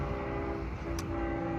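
Long Island Rail Road Cannonball train, Penn Station to Montauk, 12 cars, passing the Snedeker Avenue crossing in Bayport: a steady, close rumble of rolling wheels with sustained tonal horn notes, plus a brief high burst midway.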